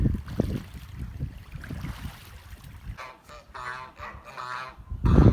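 Several geese honk nearby in short nasal calls, with splashing water from a stream and low rustling beneath, the honks clustering toward the end.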